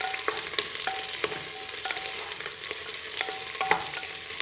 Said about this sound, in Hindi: तेल गर्म होने पर हम ये कटहल के पीस डाल देंगे और इनको अच्छा लाल होने तक थोड़ा सा भून लेंगे